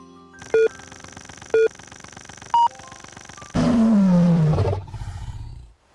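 A lion gives a single loud, drawn-out roar that falls in pitch and fades, following three short beeping electronic tones over a steady background hum.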